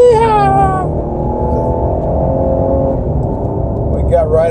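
A 2020 Ford Explorer Hybrid accelerates hard toward 5,000 RPM while driving in Oregon, a loud steady engine drone and whir heard from inside the cabin, with a brief excited voice at the start and end.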